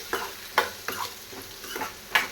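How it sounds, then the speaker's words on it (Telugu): Chopped ivy gourd pieces being stirred in a frying pan for a Telugu-style dry fry, with several separate scraping strokes of a spatula over a soft, steady sizzle, close and alone without talk. "అందులో మనం కట్ చేసి పెట్టుకున్న దొండకాయ ముక్కల్ని వేసుకోవాలి ఇప్పుడు దీన్ని బాగా కలుపుకోవాలి"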